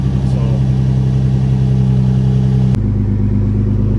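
Nissan G35/350Z V6 with Motordyne Art Pipes exhaust, Megan Y-pipe and resonator/muffler delete, running loud and close with a steady deep drone that drops to a lower idle partway through.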